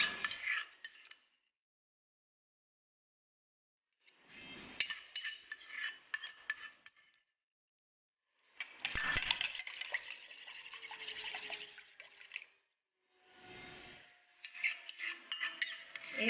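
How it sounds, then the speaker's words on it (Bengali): Homemade sweet red curd being whisked with a hand beater, bursts of rapid scraping and clinking against the bowl separated by silent pauses. "এই বিটার দিয়ে ভালো করে দইটা ফেটিয়ে নিতে হবে"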